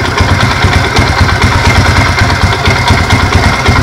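A 70cc motorcycle engine idling slowly at close range, with a loud, steady, rapid low putter and no talk.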